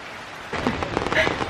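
Rain falls in Ubud, Bali, starting abruptly as a close, loud patter with irregular drops hitting surfaces, briefly quieter at first then a dense wash of noise.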